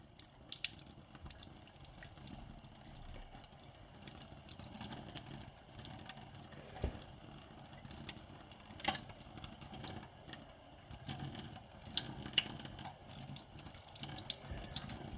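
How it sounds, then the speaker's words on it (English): Water runs from a tap into a container as it fills, a soft continuous trickle with scattered drips and splashes, faint and close, no talking. "then fill that with water"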